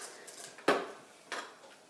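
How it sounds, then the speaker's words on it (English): A utensil stirs shrimp scampi sauce with tomato in a dish: one sharp clink against the container, then a softer scrape and faint taps, close and without talking. "mix up your sauce a little bit."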